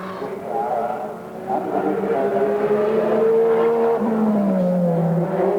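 Mark Gibbs' GIO-sponsored Nissan GT-R race car howls around Bathurst during the 1991 shootout, a sustained high-revving engine note rising and shifting as it passes, heard loud under a commentator's voice.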